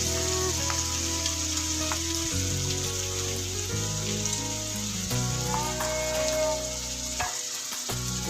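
Onion and cumin sizzle in hot oil for an Assamese egg tarka, a steady loud frying hiss close by that runs throughout, joined by soft background tones.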